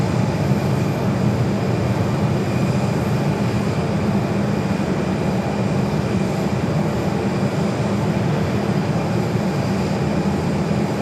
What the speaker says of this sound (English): this is Southwest 737 at 700. It's flight 435 coming in from Baltimore